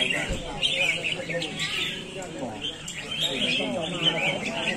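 Red-whiskered bulbuls sing at a bird song contest in Tam Dương, Vietnam, with a dense, continuous tangle of bright chirps and trills from many birds, under an announcer's voice on a loudspeaker.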